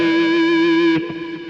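Electric guitar through a wah effect on a Kemper Profiler, a single sustained distorted note ringing for about a second before a muted, choppy tail.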